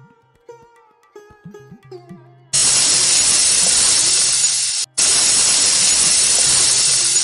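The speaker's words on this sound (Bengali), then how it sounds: "প্রেসার কুকারে আমি কিছুটা জল এবং লবণ দিয়ে ডালটা দিয়ে দিয়েছিলাম, দিয়ে আমি হাই ফ্লেমে 2 সিটি দিয়েছি।" A pressure cooker cooking lentils in salted water over a high flame lets out a loud, steady steam whistle and hiss that bursts in abruptly and holds, with a brief break, until the end; quieter kitchen clinks come before it.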